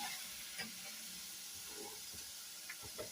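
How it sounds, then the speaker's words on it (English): A soup spoon stirs food in a pan during Spanish home cooking, making faint scraping and clinking sounds over a steady low sizzle, with no voices. "A soup spoon there. All right. Let's stir that together."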